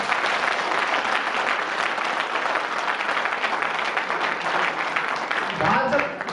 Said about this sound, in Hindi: वास्तव में इस टीम के लिए एक बार बहुत दिल से तालियां।